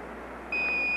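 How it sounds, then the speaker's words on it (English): A steady electronic beep tone, like the Apollo lunar module 1202 program alarm, switches on halfway through and holds over faint background hiss. "Give us a reading on the 1202 program alarm."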